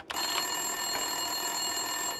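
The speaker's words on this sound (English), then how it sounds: "Winterson's phone was ringing." A desk telephone in the Max Payne 2 video game rings with a steady, sustained electronic trill, faint and continuous with no talk.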